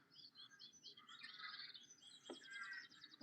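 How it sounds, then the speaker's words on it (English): Songbirds at a misty loch at sunrise, with great tits, blue tits, chaffinches and chiffchaffs giving quick chirps and short trilling phrases, fairly faint and overlapping against quiet background hiss. "you can hear the songbirds, the great tits and the blue tits and the chaffinches and the chiff-chaffs"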